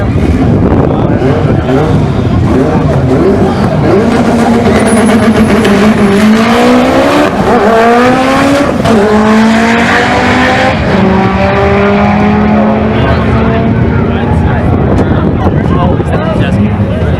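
Two Mitsubishi Evo cars race each other at a track day, their engines roaring loud and close with rising and falling revs that sweep up and down through the whole stretch.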